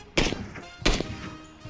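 Two sharp, punchy .50 rifle gunshots in PUBG ring out about half a second apart, each with a short echoing tail, followed by a faint third hit.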